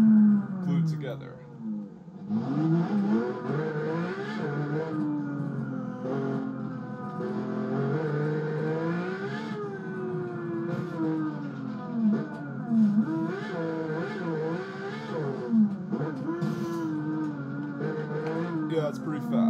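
A 6-liter V12 car engine in the BeamNG.drive driving game revs steadily with a muffler, its low, fast drone rising and falling for the whole stretch while people talk over it.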